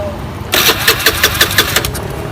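A Honda Beat motorcycle with a sputtering fault is started: after half a second of quiet the engine cranks and catches with a rapid rhythmic pulsing, close and loud, with some voice in the background.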